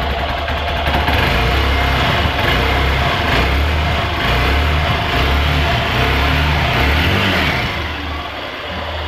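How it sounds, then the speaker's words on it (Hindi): A Hero Xpulse 200 motorcycle, carburetor variant, runs with its exhaust close and loud, a steady low thumping engine note with slight rises and falls throughout, easing off at the end. "अभी आपको एक कार्बोरेटर वेरिएंट का साउंड सुनना देता तो आप कुछ समझ जाएंगे कि दोनों के साउंड में क्या डिफरेंस है।"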